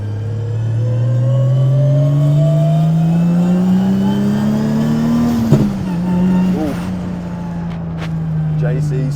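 A 600hp 2JZ-powered Toyota JZX100 Mark II with a sequential gearbox revs and accelerates, its engine note rising into a subtle whine over nearly nine seconds, loud and close, with people talking over it.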